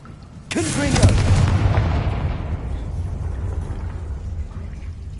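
A Confringo fire blast spell goes off in Hogwarts Legacy as a sudden loud booming burst, then trails off into a long rumbling decay that fades slowly without fully dying away.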